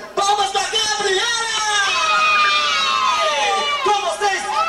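Crowd cheering and shouting for Gabriela at her fifth birthday party in 1989, loud and sustained with excited children's voices, whoops and high chatter throughout.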